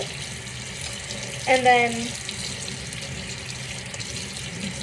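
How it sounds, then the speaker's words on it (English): A faucet runs steadily during hand washing in a health care setting, a constant hiss of water with a brief voice speaking over it. "you don't turn off the faucet yet"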